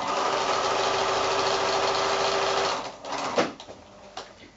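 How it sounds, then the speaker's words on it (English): A sewing machine stitches pieced quilt fabric with a steady close whir that stops about two-thirds through, followed by a few quiet handling clicks and bumps. "sew a scant 1/4 inch the other side of that drawn line"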